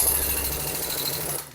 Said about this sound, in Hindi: इस नट को आपको मशीन से फुल टाइट कर देना।